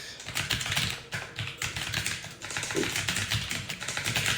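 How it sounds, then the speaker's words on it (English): Computer keyboard typing: a steady run of quick, light key clicks with brief pauses, close and fairly quiet, with no voices. "let me just type this out really quick"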